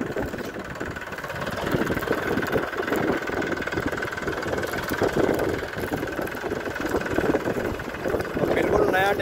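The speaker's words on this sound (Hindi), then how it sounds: "ये है दोस्तों पावर ट्रैक डीजल से, और ये प्लाव के साथ चल रहा है इसमें।" Steady diesel chugging from a Powertrac Euro 50 tractor working with a plough, running continuously at moderate distance with some wind noise while someone talks over it.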